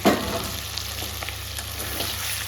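A ground paste of cumin, coriander and dried chili fries in a pan with a steady sizzle, opened by a short splash as it goes in, then faint stirring scrapes.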